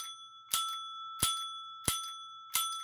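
A bell on a Gottlieb pinball match unit is struck by its arm four times at an even pace, each a bright, close metallic ding with a steady ringing tone that carries between strikes.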